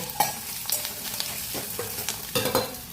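Grated coconut fries in a pan for a kochu shak ghanto, a steady close sizzle with several quick stirring scrapes and a spatula tap or two.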